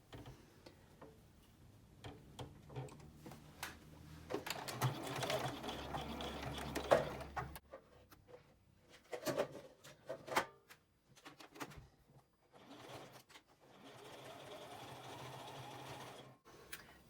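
Sewing machine top stitching a fabric tote bag at a slightly longer stitch length, running in steady bursts with pauses between, close and alone, with faint handling ticks in the gaps.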